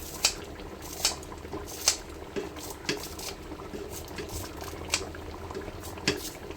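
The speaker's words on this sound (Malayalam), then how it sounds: "കറി നല്ലവണ്ണം തിളച്ചിട്ടുണ്ട്" Homemade Kerala chicken curry bubbles in a pot with soft popping and simmering, punctuated by several sharp clinks of a utensil against the pot.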